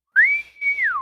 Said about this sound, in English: bosun's whistle as coming on the ship-wide comms